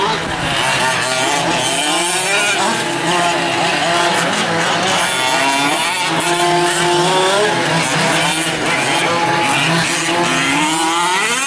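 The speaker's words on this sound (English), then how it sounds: "the passing car is a four-wheel drive car" A fifth-scale four-wheel drive racing buggy roars past at an RC race, its small engine revving and whining in rising and falling sweeps, loud and continuous, with an announcer talking over it.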